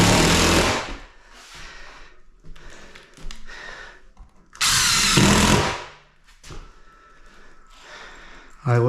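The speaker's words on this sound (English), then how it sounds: "we're screwing it down over top of all the studs" A power drill drives screws through flooring into the studs of an upstairs floor. Loud, close whirring comes in short bursts separated by quieter pauses and handling noise.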